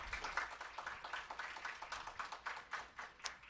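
Applause from an audience at a public governance event honoring its speakers: a faint, quick patter of many hands clapping at a steady rate, heard from a distance without voices.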